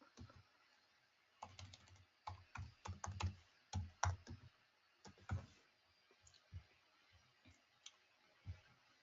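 A password being typed on a computer keyboard, with bursts of close, crisp key clicks that come in quick runs, then thin out into a few scattered taps.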